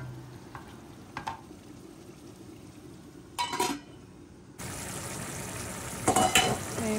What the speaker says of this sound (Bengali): আদা রসুনের পেস্টটাও দিয়ে দেবো, গরম মশলা দিয়ে দেবো। সব কিছু দিয়ে আমি একটু নাড়াচাড়া করে নিচ্ছি।